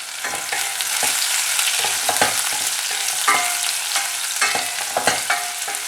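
Small shallots frying and being stirred in hot oil in a pan, with a steady crackling sizzle broken by sharp spatula scrapes, close and fairly loud, no voices.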